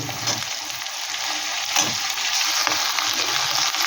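Kashmiri chilli, turmeric, cumin and coriander powders fry with tomato in hot oil for a prawn khichuri, giving a steady loud sizzle with a few stirring scrapes. No one speaks.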